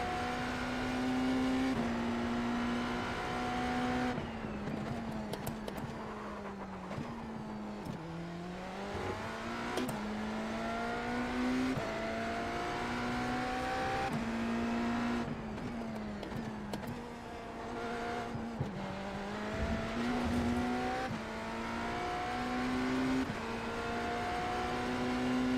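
A BMW V8 hybrid race car in the iRacing simulator drones steadily at high revs, its engine pitch dipping and climbing repeatedly through gear changes and corners over a long continuous stretch, with no talk.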